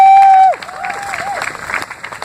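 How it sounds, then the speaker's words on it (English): Scattered applause from an outdoor audience at a City Hall flag raising in Philadelphia follows a sustained tone that cuts off, with light, uneven clapping and crowd noise. "Please give him a great round of applause"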